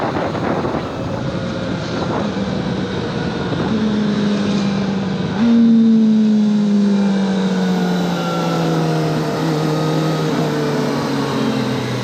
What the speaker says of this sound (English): I'll go down all the way from 6th gear all the way to 1st, just using the Quickshifter auto blip on them